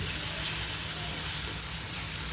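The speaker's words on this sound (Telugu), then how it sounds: "ఇప్పుడు ఇందులోకి తురుముకున్న మామిడికాయను వేసుకోవాలి ఇది బాగా ఫ్రై చేసుకోవాలి" Grated raw mango frying in a hot pan, giving a steady loud sizzle and hiss that carries on without pause and with no voices.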